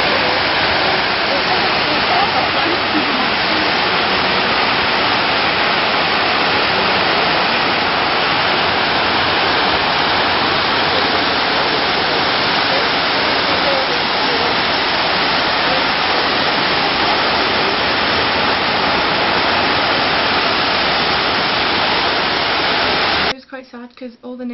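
Powerful cascading roar of the waterfall at the 9/11 memorial at Ground Zero in New York, a dense unbroken rushing wash heard up close for over twenty seconds before cutting off abruptly.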